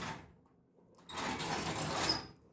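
A desk's top drawer slides open in a studio, a single close scraping run of about a second, preceded by a short softer rustle.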